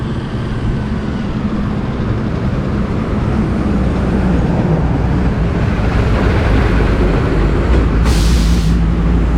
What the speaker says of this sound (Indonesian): di depan ini stasiun Ketapang ya.